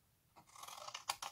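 Paper is cut with scissors for a homemade box, a brief close crunching snip that builds to a couple of sharper cuts at the end, faint and alone.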